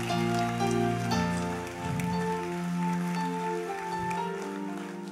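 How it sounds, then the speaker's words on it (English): A church congregation clapping continuously during a sermon, a dense, steady patter of many hands filling the room under sustained keyboard chords. "Keep clapping until she comes."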